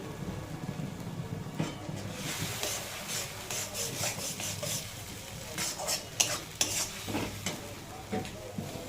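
A spice paste of ground tomato and chili powder fries in a pan, with a soft continuous sizzle, scraping stirring strokes and a few sharper utensil taps near the end.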